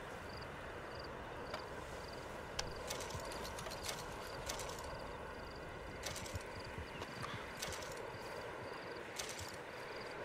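A horse trots under a rider in Red Dead Redemption, with steady hoof clip-clops over a continuous outdoor ambience and faint rattling, the rhythm even and moderately close.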